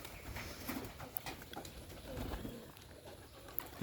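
Green-necked Bombay pigeons coo softly at moderate distance, low repeated calls spread through the clip against a rainy outdoor background, with no talk.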